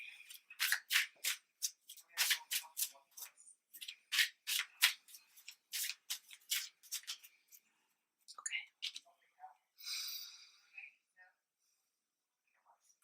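Slippery tarot cards are handled and shuffled, making repeated close, crisp riffling and slapping bursts in a rhythmic run, then a softer brushing slide and quiet.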